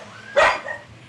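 A single sharp dog bark rings out at a rescue shelter, short and fairly close, followed by a brief softer yip over quiet background.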